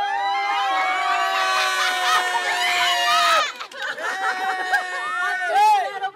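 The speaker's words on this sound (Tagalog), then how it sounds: "Ang mga girls, sumigaw naman for girls!" A crowd of girls shouts and cheers at a gender reveal party, loud high-pitched screams and excited yelling sustained for several seconds, dipping briefly before another burst of cheering.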